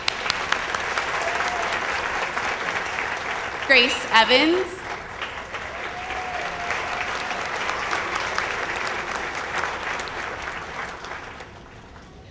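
An audience applauds at a grammar school promotion ceremony, with sustained clapping from a crowd filling the room. A voice speaks briefly over it, and the clapping fades near the end.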